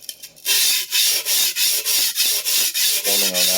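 A vintage Clyde Cutlery chef knife is stroked across a sharpening stone, removing metal in a steady series of about ten close, even rasping strokes after a brief start.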